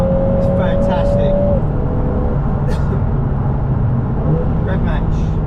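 Lotus Emira engine pulling hard through a gear change, a steady loud mechanical drone with a brief tonal whine that drops as the shift lands, heard from inside the car under continuous road noise.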